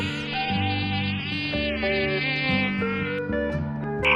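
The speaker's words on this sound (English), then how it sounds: "mosquito" A mosquito whines in a thin, continuous, close buzz throughout, set against a steady musical backing.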